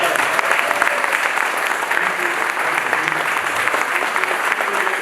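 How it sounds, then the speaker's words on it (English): After a theatre play, an audience gives the director loud, continuous applause that stays even throughout, with faint voices mixed in. "Please give a round of applause to our wonderful director, Vijay."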